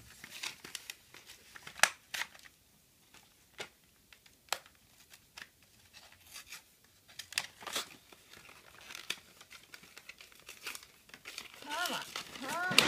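Plastic packaging of a snowflake sticker set crinkles loudly and repeatedly up close as it is opened, with scattered rustling bursts and a voice speaking toward the end.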